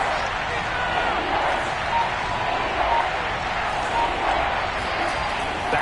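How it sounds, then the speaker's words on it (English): Stadium crowd in the Madden 22 video game, a dense, steady roar of cheering that stays constant throughout, broad and enveloping with faint claps mixed in. "The crowd getting into it as we come up on a big third down."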